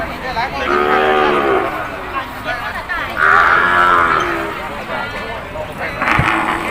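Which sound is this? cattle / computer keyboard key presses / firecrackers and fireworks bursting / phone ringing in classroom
cattle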